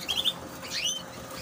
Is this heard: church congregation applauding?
no